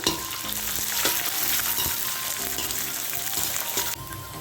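Vertically sliced large onions fry in hot oil with a steady, dense sizzle, punctuated by occasional stirring scrapes and clinks, then easing slightly near the end.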